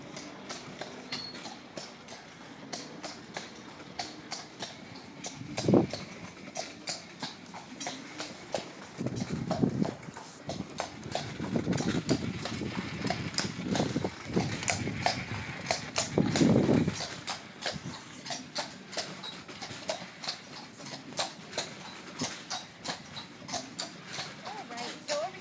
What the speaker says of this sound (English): we're starting on the horse-drawn carriage ride